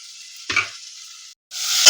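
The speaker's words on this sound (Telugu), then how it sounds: "ఉల్లిగడ్డలు పచ్చిమిర్చి బాగా గోలాలి" Onions and green chillies being stirred and fried in a pan: a bright, close sizzle broken by a short clatter of stirring, a brief gap, then a louder hiss as the pan flares up again.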